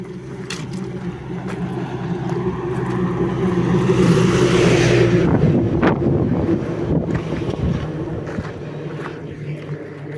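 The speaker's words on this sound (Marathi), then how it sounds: "गाडी येते बघू शकता तुम्ही" A vehicle draws near along a road beside a stone quarry, its rumble swelling under strong wind buffeting the microphone, peaking midway, then fading again.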